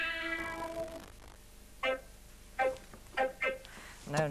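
A human voice imitates a cat's meow with a drawn-out call, followed by several short, bright meow-like calls spaced apart in a quiet room.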